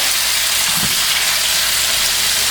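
Strips of beef sizzle loudly in a hot pan for a beef and broccoli stir fry, a steady bright hiss with a brief thump as pieces go in.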